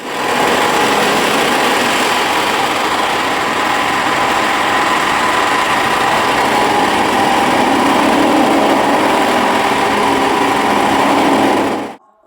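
A Farata chaff cutter machine running at speed, a loud, steady high-pitched mechanical whir and hum that holds even for about twelve seconds before cutting off abruptly.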